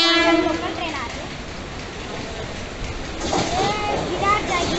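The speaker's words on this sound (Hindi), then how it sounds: "लोकल ट्रेन आ रही" A local commuter train pulls into a station in Kalyan, a broad steady rumble of rail noise with brief horn-like tones, heard with people talking.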